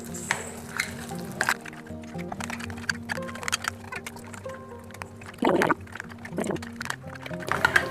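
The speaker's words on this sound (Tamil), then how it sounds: "ஸோ கொஞ்சம் கொஞ்சமாக வாட்டர் மிக்ஸ் பண்ணிக்கோங்க." Water is stirred into sweet potato bajji batter, giving wet squelches and sloshing at close range in irregular bursts, with a louder flurry of mixing near the end.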